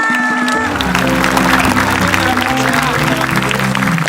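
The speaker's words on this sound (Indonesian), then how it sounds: "Boleh kita kasih tepuk tangan untuk Randy Pangalila." Audience applause on an Indonesian comedy game show for guest Randy Pangalila, a loud continuous wash of clapping mixed with sustained music tones and crowd noise.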